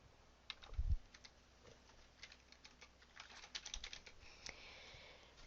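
Keystrokes on a computer keyboard as a name is typed, a short scattered run of faint, light clicks with a louder thump near the start, fairly close in a quiet room.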